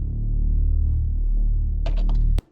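Distorted, phase-dispersed synth bass tone with dense low harmonics and smeared sweeping partials, droning steadily and loud before a few brief bright bursts and an abrupt cutoff near the end.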